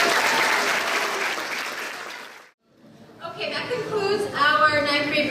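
Audience applause for ninth grade presenters at a school seminar, a loud burst of clapping that cuts off abruptly, followed by a short pause and then people talking.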